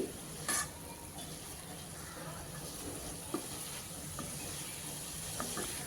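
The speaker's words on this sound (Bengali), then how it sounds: "আলু টমেটো খুব ভালো করে কষিয়ে নিয়ে বেগুনগুলো দিয়ে দিচ্ছি" Eggplant pieces tipped into a pan where potato and tomato are frying, giving a soft steady sizzle with a brief clatter as they land and light stirring, fairly faint and close.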